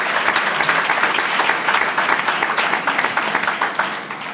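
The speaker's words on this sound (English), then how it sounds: "we can give you a round of applause" An audience at a public schools event giving a round of applause, steady dense clapping at fairly close range that tapers slightly toward the end.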